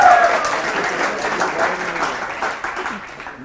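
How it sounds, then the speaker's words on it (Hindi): A studio audience on a Hindi weekend TV show applauds for a guitarist, steady dense clapping from start to end with a faint crowd murmur beneath and no clear talk over it. "मेरे गिटारिस्ट के लिए क्लैप स्पेशल होनी चाहिए"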